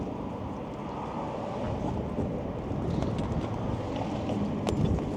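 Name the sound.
wind blowing outdoors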